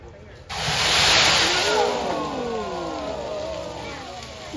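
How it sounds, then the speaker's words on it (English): Half a cup of water poured onto a grease fire in a kitchen fire demonstration sets off a sudden loud, roaring burst of hissing, crackling flame that gradually eases while staying strong. "we're going to put a half a cup of water. Half a cup of water on this grease fire"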